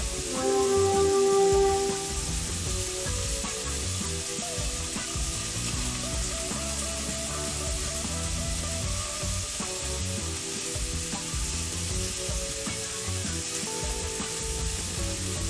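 Meat sears in a very hot pan with a dense, crackling sizzle that carries on steadily throughout, close and fairly loud, with no speech over it.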